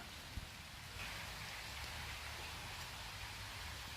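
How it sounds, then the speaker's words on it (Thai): Heavy rain falls on a forest near home with chestnut trees, a constant soft hiss of drops at a distance, with a single small knock near the start. "ฝนก็ตกลงมาแล้วนะคะเนี่ย ฝนตกแรงมากเลย"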